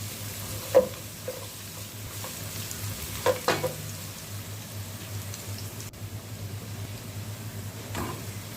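Garlic frying in a pan for chicken biryani, a faint continuous sizzle with a few soft clinks of stirring, quiet and close.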